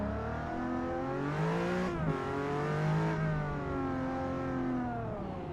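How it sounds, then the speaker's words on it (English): A Pagani Zonda V12 in the racing game Gran Turismo 7 revs and pulls through the gears, a continuous harmonic engine howl that rises and falls in pitch with a gear change near the middle, moderately loud and without talk. "Zonda V12 in this game sounding that good."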